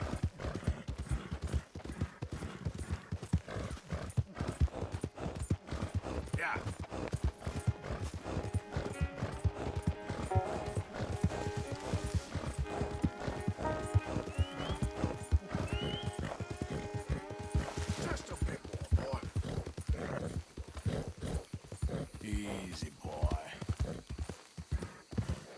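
Horse hooves clop in a steady, close, rhythmic gallop in the game Red Dead Redemption 2, with brief whinnies, while someone talks over them and background music plays.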